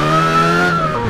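A car in Test Drive Unlimited 2 drives along, its engine holding a steady droning tone that dips slightly near the end, loud and close with no talking.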